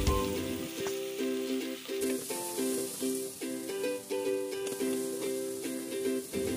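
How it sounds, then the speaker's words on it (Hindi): Green chili and salt sizzle and fry steadily in a pan while preparing mutton Kabuli pulao, a continuous close crackling hiss with faint stirring, no talk. "मिर्च और नमक आप अपने टेस्ट के हिसाब से डालिए ये हमारी मिर्च बहुत ज़्यादा तीखी थी इसलिए हम एक चम्मच ही डालें और थोड़ा सा भून लेंगे"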